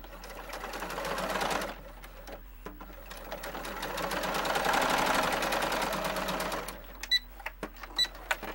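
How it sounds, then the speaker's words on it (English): A sewing machine stitches along the edge of a fitted fabric face mask, running in two sustained whirring passes close to the mic, followed by a few short clicks and taps. "you're kind of sewing over what's already sewn anyway"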